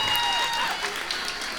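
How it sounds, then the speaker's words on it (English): Audience applause from a live dating-show crowd, a steady broadband patter of clapping that fills the whole moment at even loudness, with speech mixed in underneath. "Clap it up for John."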